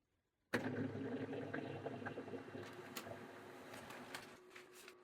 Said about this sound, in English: it will receive the data to print using the USB, and it will start printing.